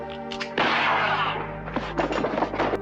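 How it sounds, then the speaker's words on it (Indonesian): A pistol fired from a sleeve during a cowboy-style duel in the western film For a Few Dollars More: one loud, sudden shot with a long ringing tail over a sustained musical score, then a few lighter knocks. "dengan cepat kolonel menembakkan pistol dari balik lengan bajunya"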